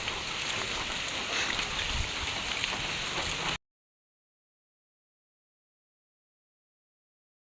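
Steady rain falls during a rainy-day outing in the Philippines, a dense even hiss for a few seconds before cutting to silence.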